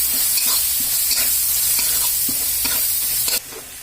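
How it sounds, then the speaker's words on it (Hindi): Jackfruit with chili, coriander and turmeric powders is stir-fried in a pan, giving a loud, close, continuous sizzle with repeated scraping stirs that drops off slightly near the end, no voices. "हम अच्छी तरह भून लेंगे"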